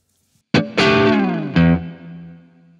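A distorted electric guitar with effects plays a riff opening: a sharp muted hit, then two ringing, heavily overdriven chord strikes that sustain and fade, loud and alone.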